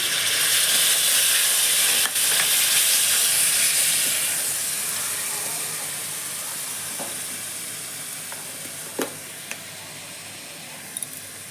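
Spice paste sizzling and hissing loudly in a hot pan as water is poured in for matar paneer, a steady bright fry that slowly fades over several seconds, with a few sharp clicks and stirring knocks near the end.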